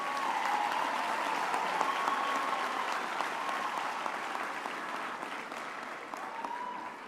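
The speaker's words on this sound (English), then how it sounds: "Another round of applause for Marika," A graduation ceremony audience applauds steadily for about seven seconds, a dense wash of many hands clapping that eases slightly toward the end.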